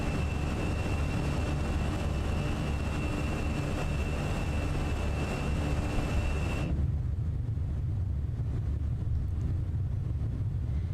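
Airbus A320 jet engines in the Flight Simulator 2020 game drone with a loud, steady roar and a high whine that cuts out partway through, leaving a deep constant rumble.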